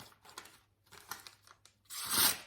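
A Wusthof santoku knife slices through wet paper against the grain, giving a few short rasping, tearing strokes close by. The last stroke is the loudest and longest, and nobody speaks.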